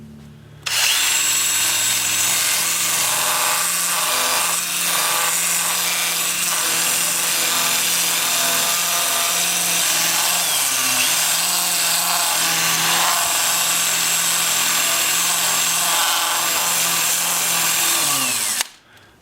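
A sanding disc works a piece of plum wood spinning on a lathe, a loud steady whirring grind with a droning motor hum that starts abruptly, holds for the whole stretch, then cuts off.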